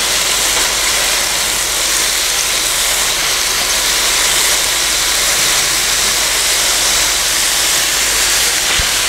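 Minced pork sautéing in a pan for Filipino picadillo, giving a loud, steady, broadband sizzling hiss that runs unbroken throughout with no voices.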